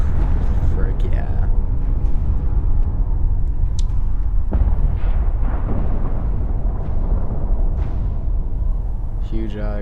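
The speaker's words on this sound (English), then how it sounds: "Huge explosion." In Fallout 4, a huge explosion destroys the Institute with a loud, booming rumble and scattered bursts and crackles that keep up for several seconds, under a voice talking over it.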